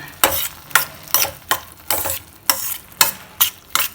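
Mushrooms stirred in oil in a pan: about nine regular scraping strokes of a utensil, roughly twice a second, over a gentle sizzle, close and clear with no voices.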